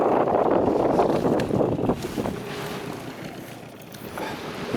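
Strong wind sweeps across an Upper Volga lake during cold-weather fishing, with whitecaps and foam on the water. A loud, continuous buffeting roar and gusty rumble blow straight over the microphone.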